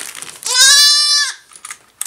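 A newborn goat kid gives one clear, loud bleat lasting under a second, close to the listener indoors while being weighed, followed by faint handling noises.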